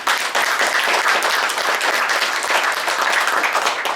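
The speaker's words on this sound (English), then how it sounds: "the curtain comes up to a big round of applause from the audience" Big round of applause from a theater audience at the Crystal Palace Saloon in Ogallala, Nebraska, as the curtain rises on a folk entertainment show; dense, steady clapping fills the room continuously throughout.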